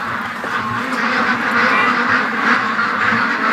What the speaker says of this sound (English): Ducks don't like the red flashlights. Freak them right out.